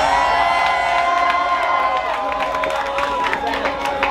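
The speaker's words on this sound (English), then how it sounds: "Makes a round of applause." A fight-night crowd cheers, whoops and applauds after a main-event bout, a loud, dense roar of many voices and claps that holds steady throughout.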